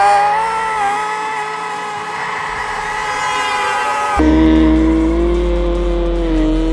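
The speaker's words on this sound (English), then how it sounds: "He declutched and shifted the car to a lower gear to drift around the obstacle with full confidence." A car drifting around an obstacle after a downshift, its tires squealing in a loud, sustained whine that shifts abruptly partway through into a deeper engine roar, with no talk.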